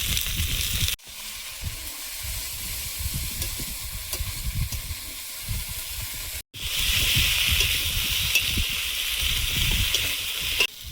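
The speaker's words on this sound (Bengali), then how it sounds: "ডাঁটা দিয়ে একদম কম ভাজবো, তাই আগে সব ভেজে নিলাম" Potatoes and gourd-leaf stalks fry with spices in hot oil, a steady close sizzle with scraping stir strokes, broken by two brief drops to quiet before the frying resumes.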